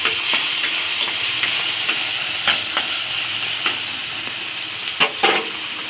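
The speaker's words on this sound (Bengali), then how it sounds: "মশলাটা ভালো করে কষে নেব" Spice paste with tomato, ginger, garlic, turmeric, cumin and chilli sizzling in a pan while being stirred, a steady hiss punctuated by repeated scraping and clinking strokes of the spoon, no talk.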